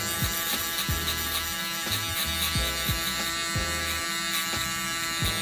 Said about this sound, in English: We have our shaver.